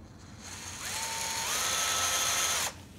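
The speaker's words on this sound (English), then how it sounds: "with the hole saw, what we're going to do is we're just going to take it easy and drill slowly" A hole saw bores slowly into timber for a box lamp, its close, steady motor whine rising in pitch as the cut deepens, then stopping abruptly, with no talking.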